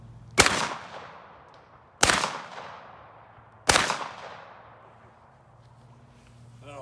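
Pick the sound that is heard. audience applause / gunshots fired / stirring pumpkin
gunshots fired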